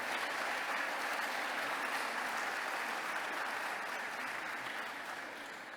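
An audience at a healthcare conference's closing session applauds in a sustained burst of clapping that holds steady, then starts to fade toward the end, heard from a moderate distance.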